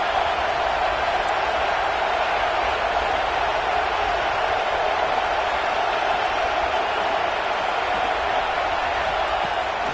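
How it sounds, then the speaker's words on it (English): A packed stadium crowd roars without pause in the football video game Madden on PS5, a dense, loud, even wash of cheering that holds for the whole stretch. "Listen to this crowd just shaking the girders of this place, trying to help their defense."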